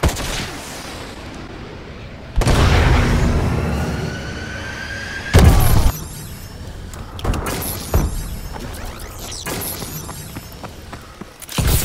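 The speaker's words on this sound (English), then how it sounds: "Missile strike ready for launch. Friendly missile strikes inbound." Missile strike explosions rip through a Call of Duty: Advanced Warfare multiplayer match, one long roaring blast followed by a sharp loud burst and several scattered smaller cracks and impacts.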